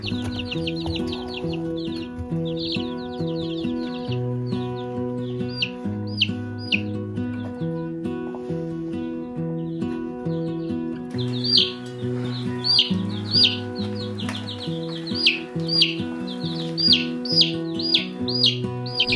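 A baby chick with a broken wing chirps in repeated high, sharp peeps, close and clear, over steady background music with no talking.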